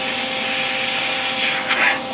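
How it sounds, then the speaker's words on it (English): Plasma cutter slicing 1/8 inch thick steel plate on a plasma table, a steady loud hissing roar of air and arc that holds through the whole stretch, with brief brighter flares near the end. "Might help if I had my gas on for my plasma cutter."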